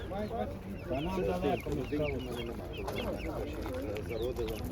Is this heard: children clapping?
no